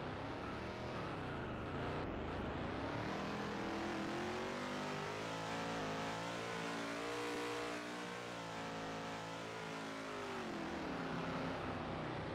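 A car engine in a racing video game during a race at Watkins Glen ('Go Bowling at the Glen') revs loudly and continuously, with the pitch rising and falling through shifts for the whole stretch and no talk.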